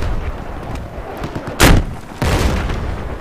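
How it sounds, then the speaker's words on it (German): Tank cannon in Battlefield 4 on the Silk Road map: a single heavy, close blast cracks out in a short burst, followed a moment later by a longer rumbling boom under steady battlefield noise. "Und erster Schuss daneben."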